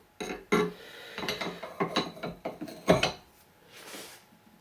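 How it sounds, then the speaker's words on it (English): Metal clicks and ratcheting as a wrench tightens an AR-15 barrel nut on an upper receiver, a series of sharp close taps and scrapes in irregular rhythm, with no talking. "after we tighten on the barrel nut"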